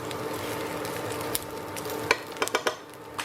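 Fideo noodles toasting in a pan give a steady low sizzle, broken by a few sharp clinks and scrapes of a utensil stirring against the pan, alone with no talk.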